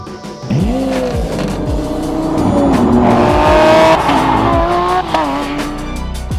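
A Lamborghini Aventador SVJ Roadster revs loudly as its tires squeal, with repeated rising engine sweeps and shrill skidding tones up close.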